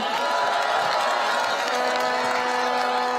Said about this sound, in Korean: 중앙당 이세팀께 다시 한번 큰 박수 부탁드리겠습니다